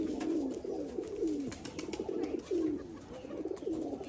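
Domestic pigeons coo repeatedly, a series of low throaty rolling calls close by, several overlapping in a steady rhythm through the clip.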